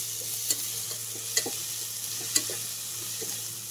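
Ginger-garlic paste fries in oil in a pan for paneer pulao, a soft low sizzle under a few sharp, evenly spaced scrapes and taps of the stirring spoon.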